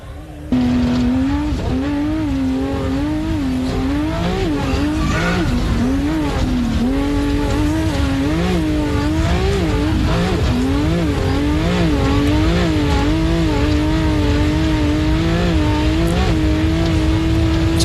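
An off-road race vehicle driven hard over a rough track at the Loveday 400 at Loveday 4x4 Adventure Park, heard from onboard. The engine drones loud and steady for the whole stretch, its pitch rising and falling as the throttle is worked.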